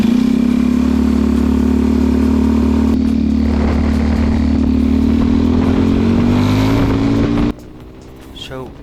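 A 4-stroke go-kart engine runs steadily close by with a strong, even droning hum that climbs slightly in pitch, then cuts off abruptly near the end, leaving quieter background noise and voices.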